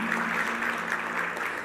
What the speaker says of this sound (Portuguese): se coloque de pé e aplauda aquele que te perdoou, Jesus Cristo